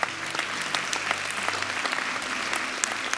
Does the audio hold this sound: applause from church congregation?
yes